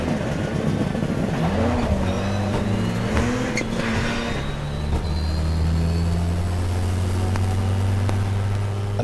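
A 600bhp four-wheel-drive rallycross Citroen DS3 launches hard from a standstill, its engine note loud and close and climbing steadily, with the pitch dropping back at each gear change as it pulls away.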